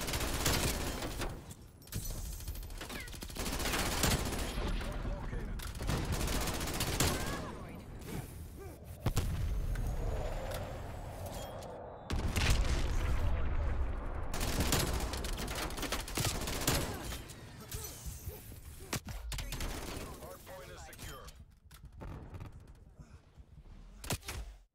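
In a video game, a PPSh submachine gun fires in rapid, dense bursts, loud and close, with thumps and explosions mixed in and a voice talking at times over the gunfire.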